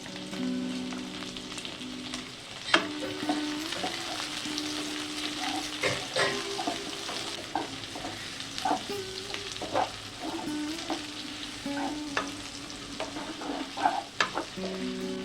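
Chopped medium tomato frying in a pan for an egg tadka, with a steady sizzle broken by scraping stirs and clinks of a spoon, close and moderately loud without any voices.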